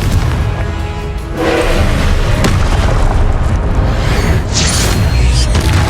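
In Hogwarts Legacy, the Confringo fire spell erupts in a loud, sustained, booming explosion with a roaring rumble and crackling bursts throughout, close and overpowering.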